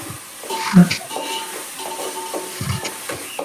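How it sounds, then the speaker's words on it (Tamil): Ginger garlic paste sautéing in a pan, with a steady sizzle and repeated stirring scrapes and clinks of a utensil against the pan, close and fairly loud. "இப்போ நம்ம வதக்கிக்கலாம் நல்லா இஞ்சி பூண்டு பேஸ்ட்டு வந்து நல்லா அந்த பச்சை வாசனை போகிற வரைக்கும் வதக்கி விட்டுடுவோம்"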